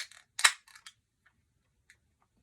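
A bottle of juice is cracked open: a few sharp clicks lead into one louder snapping crack, then sparse faint ticks in otherwise quiet surroundings.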